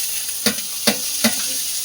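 Fish fries in hot oil in a home kitchen over a lit stove, a steady close sizzle broken by three sharp scrape-like knocks of stirring at roughly even intervals.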